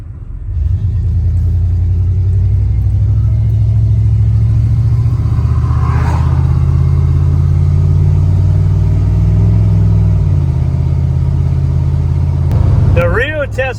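A low, steady engine rumble from a GMC OBS pickup truck with a newly installed Cold Case radiator on the move, loud and close, with a faint voice near the end.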